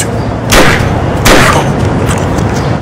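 Two sharp, loud gunshots from a staged shootout in a short film crack out less than a second apart, each a sudden blast trailing into a brief decay, with no speech.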